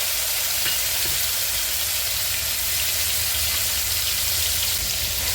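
Cabbage with peas, tomato and chili fries in a pan, giving a steady, close, even sizzle that runs throughout with no talking.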